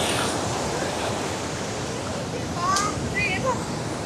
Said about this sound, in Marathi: तिकडे लाटा बघा कशा येतात.